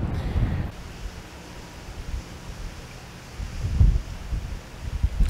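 Gusty wind blows outdoors beside a river, rumbling against the microphone in uneven low surges with a stronger gust near the end, and no voices are heard.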